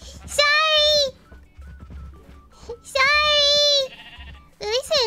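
A Minecraft cow lets out three loud, drawn-out cries as it is hit in the video game, separated by short pauses with a person speaking between them.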